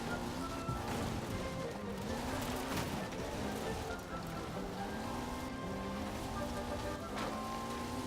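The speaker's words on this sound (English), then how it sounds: "Oh shit, it's raining." Rain falls steadily in the video game Detroit: Become Human, a continuous soft patter on surfaces beneath a low tonal hum of game ambience, with a few faint knocks scattered through.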